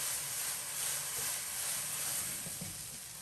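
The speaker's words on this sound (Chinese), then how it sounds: "带皮的一面朝下放，前期先不要搅动，先让它定型，开中小火煎2分钟左右。" Skin-side-down chicken legs pan-frying over medium-low heat give a soft, steady sizzle and hiss of hot oil, continuous and fairly quiet, with no voices.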